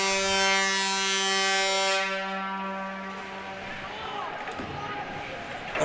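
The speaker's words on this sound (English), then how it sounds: "Faulty goal horn there. Foghorn goes off in the middle of the play." A faulty goal horn blares during play at a varsity boys ice hockey game: a loud, sustained, foghorn-like tone for about two seconds that cuts off abruptly into general rink noise.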